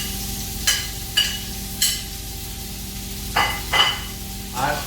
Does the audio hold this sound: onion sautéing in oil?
yes